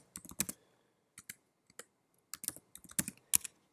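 Computer keyboard typing while entering project details into a web app form, with quick bursts of close key clicks, a short cluster, pauses, then a denser run of sharp taps.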